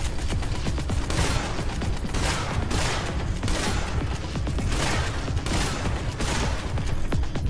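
Dense, continuous gunfire rattles through a Terminator Salvation battle on Xbox 360, with loud overlapping bursts in a steady rhythm and no pause.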